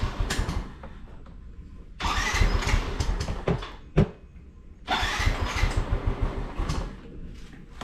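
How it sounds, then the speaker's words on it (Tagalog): A motorcycle engine is cranked repeatedly in several uneven, rumbling attempts separated by short pauses, with sputtering bursts, close and moderately loud, with no talking. "nandito tayo sa motor, pandarin na natin"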